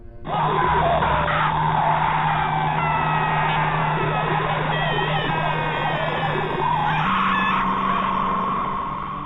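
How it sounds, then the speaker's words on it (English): A loud, distorted alarm blares continuously, a harsh, screaming-like electronic wail with shifting tones that runs unbroken for about nine seconds. "the alarm clock sound wasn't the usual marimba. It was some kind of distorted screaming sound."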